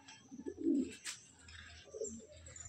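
Andhra breed pigeons with bright feathers and closed tails, kept in a loft for sale, give a few soft, low coos close by, with brief pauses and a faint higher chirp between them.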